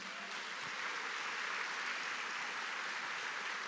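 A church congregation applauds during a morning service, a steady, sustained wash of clapping from many hands that holds at an even level without pause.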